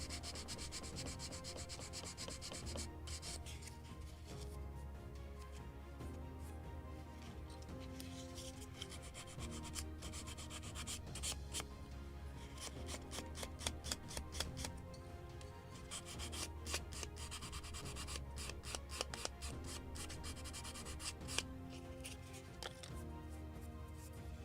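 Steady, continuous sandpaper rubbing on a wooden part of a model gunboat Philadelphia from 1776, a dense close-up scratchy hiss with small rhythmic strokes throughout and no talking.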